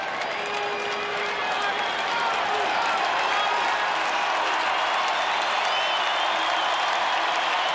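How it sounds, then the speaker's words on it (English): A packed baseball stadium crowd at a 1991 World Series game cheers and applauds in a sustained, loud roar that swells slightly midway, with a faint announcer's voice under the noise. "Crowd on its feet."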